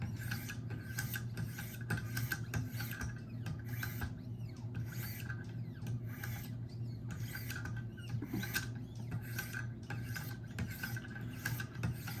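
A Spyderco Para 3 knife blade rasps steadily against a 1500/2200 grit Wicked Edge diamond stone, close up, in repeated rhythmic strokes with no talk.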